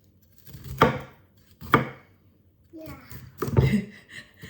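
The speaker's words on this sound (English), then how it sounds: "I'm going to start by chopping up my broccoli" A knife chops raw broccoli into small pieces on a board, several sharp separate cuts with a voice speaking between them.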